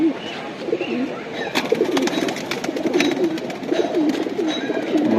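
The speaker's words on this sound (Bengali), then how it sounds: "সবুজ গলা কবুতর।" Tournament pigeons, including a green-necked male, cooing nearby in a loft, steady repeated throaty coos over faint clicks and background activity, with no clear talk.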